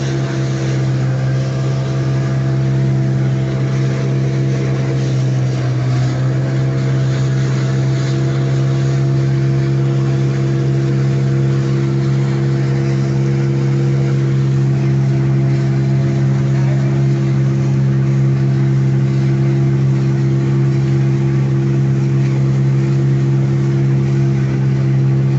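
A search and rescue boat's engine runs during a water accident operation in Nganjuk, giving a loud, steady, continuous drone that holds throughout, with no voices.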